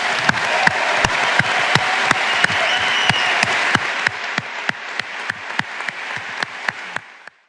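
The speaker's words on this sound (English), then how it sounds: "a huge round of applause" Web Summit audience applause, loud and sustained, with strong close claps on a steady beat over a dense crowd wash that fades out and stops abruptly.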